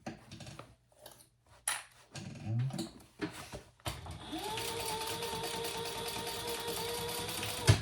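A sewing machine bastes a handbag seam after a few scattered handling clicks and rustles, then hums steadily at close range for the last few seconds.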